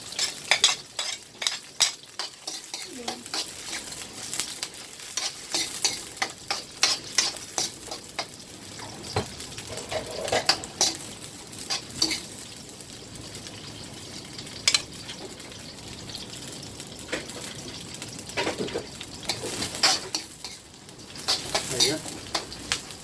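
Garlic fries in a pan with a steady soft sizzle while a utensil stirs and scrapes in repeated bursts, close by; a person talks briefly at times.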